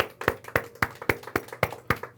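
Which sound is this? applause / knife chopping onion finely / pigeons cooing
applause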